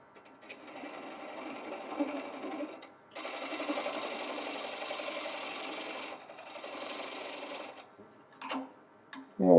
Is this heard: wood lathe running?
yes